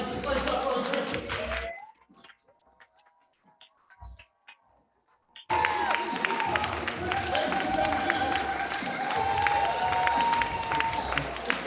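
A crowd at a real estate company's first annual meeting bursts into loud cheering and applause after a brief quiet stretch, a dense, close roar of clapping and shouting that continues steadily while people talk.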